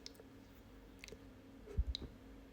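A single soft click from a computer mouse as Edit is selected on a Mastodon profile screen, faint and close over a quiet room hum.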